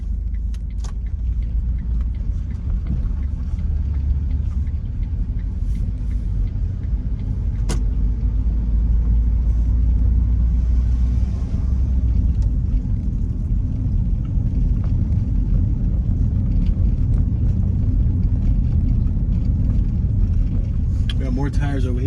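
Car driving along Memphis streets in the Parkway Village area, making a left turn onto Almo Avenue, with a steady low road and engine rumble throughout, a brief sharp click partway through.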